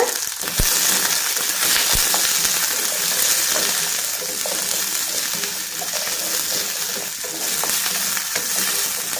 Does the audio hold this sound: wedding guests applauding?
no